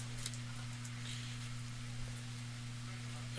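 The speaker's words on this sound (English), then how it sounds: "The rain coming down here at Quench Stadium at Vaughan Grove." Steady rain falls at Quench Stadium in Vaughan Grove during a men's football match, a soft, even hiss over a constant low electrical hum, faint and unbroken throughout.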